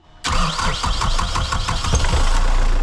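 A boat's diesel engine cranks with rapid rhythmic chugs and then catches, settling into a loud, close, steady running clatter, just after contaminated fuel was replaced with fresh Dexlite diesel.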